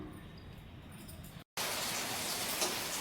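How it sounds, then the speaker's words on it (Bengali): Rain coming down in a rural home yard before cooking on a clay stove, a steady broadband hiss that stops briefly and then resumes louder and closer. "বৃষ্টি নেমে গেল"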